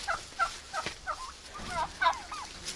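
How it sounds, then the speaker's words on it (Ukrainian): Several turkeys gobble in quick, warbling bursts, fairly close, one call after another with brief gaps and a quiet outdoor background. "Я прийшла по індиків, подивитися, що вони тут роблять."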